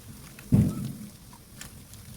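A soft thud as turmeric, chilli powder and salt hit a hot pan, followed by a quiet, crackling sizzle.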